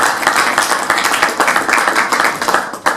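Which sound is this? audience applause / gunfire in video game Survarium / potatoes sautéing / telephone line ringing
audience applause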